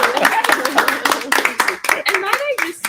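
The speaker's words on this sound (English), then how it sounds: "Round of applause for our panel" A small audience claps for a panel, distinct individual claps ringing out in an uneven rhythm while voices talk and cheer over them close by.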